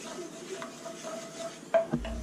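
A spoon stirring roux in a pot for chicken and sausage gumbo, quiet scraping and soft metallic clinks against the pot, ending with a couple of sharper knocks.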